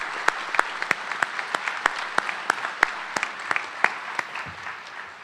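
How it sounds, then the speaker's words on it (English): Applause at a medical school commencement ceremony comes as sparse, distinct claps ringing out in a quick, fairly regular rhythm, with a few hands audible in a large, reverberant hall. "Please join me in giving these individuals a round of applause"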